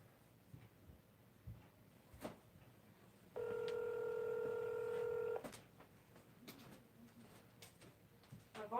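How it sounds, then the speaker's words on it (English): A phone dialing a call gives a steady two-tone DTMF signal lasting about two seconds, clear and fairly loud over quiet room noise, with a few faint clicks around it. "let me see if I can find him in my phone and call him"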